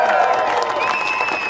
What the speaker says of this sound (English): let's hear this crowd roar